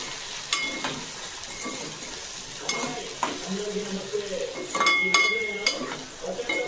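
Potato fry being stirred in a pan, giving a low continuous sizzle with intermittent scraping and clinks of a spoon against the metal, close and moderately loud.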